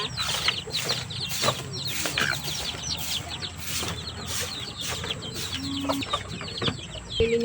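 Backyard chickens cluck and chirp in an open yard, with several birds overlapping in steady, busy calls at close to mid distance against a constant outdoor background.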